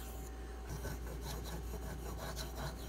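A Spyderco Manix 2 knife blade sharpened on a Pride Abrasive stone, giving soft, steady rasping strokes in a repeating rhythm, close and fairly quiet with no talk.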